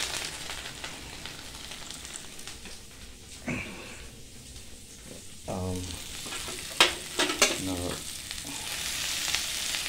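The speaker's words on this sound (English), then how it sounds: "I'm gonna plop them into the skillet" Mutton mince kababs frying in a hot skillet, a continuous close sizzle broken by a few louder scraping and spatula clinks toward the end, with no talking.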